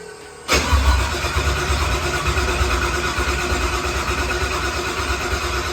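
A Procharged Ford Coyote V8 running on E85 catches at first fire-up: a sudden loud burst, then a rough, throbbing idle that carries on steadily close by.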